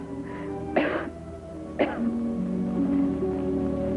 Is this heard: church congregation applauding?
no